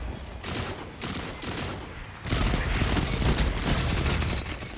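Shotgun blasts in a Destiny 2 Crucible match, heavy booming shots repeating in quick bursts with a denser barrage in the second half, loud and close over constant game noise.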